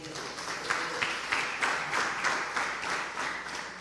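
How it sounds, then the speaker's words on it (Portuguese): Congregation applauding at a gospel church service, a steady moderate wash of many hands clapping with soft rhythmic pulses, no voices over it. "Aplauda o Senhor."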